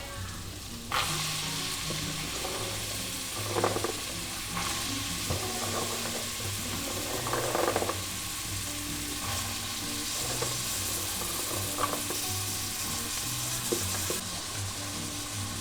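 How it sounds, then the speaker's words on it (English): Peas and stew chicken sizzle and fry steadily in a pot, with intermittent scraping and clanking of a utensil stirring it, close and constant throughout. "We're going to let it fry."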